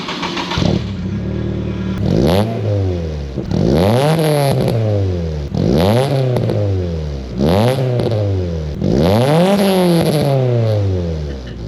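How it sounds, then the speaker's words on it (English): Car fitted with an aftermarket cannon exhaust revs hard in five loud, rising blips, each climbing sharply then falling away, with a brief idle between pulses and no talking. "I'm going to show you guys some exhaust clips now as well, so you can see just how good an exhaust sounds on your car."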